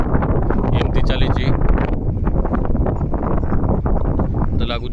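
Strong wind buffets the microphone with a constant loud roar on the Gopalpur coast as Cyclone Montha approaches, heavy rain and a rough sea mixed into the steady, unbroken rush.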